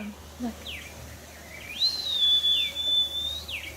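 On a farm in Oahu, Hawaii, a person whistles a call to the farm animals: a few short rising chirps, then a long, clear, sustained tone over quiet outdoor background.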